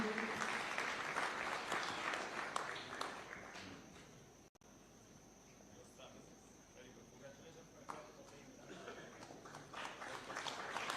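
Applause at a Kenyan taxpayer awards ceremony for a top Nairobi regional taxpayer, a sustained, fairly distant round of clapping in a large venue with voices murmuring underneath.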